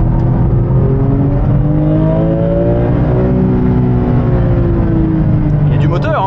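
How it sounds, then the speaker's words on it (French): A Porsche 911 GT3 sports car engine revs and accelerates steadily, its pitch climbing then holding, loud and close with a smooth, pure tone throughout. "Il fait une belle sonorité ce moteur, il fait une sonorité pure je trouve."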